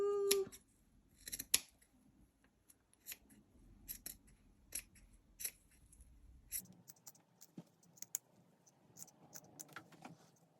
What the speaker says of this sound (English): I'll cut the same with the sequins.